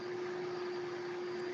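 A laptop cooling fan gives off a faint, steady whirring hum with a constant tonal whine. It stays unchanged and alone, with no voices.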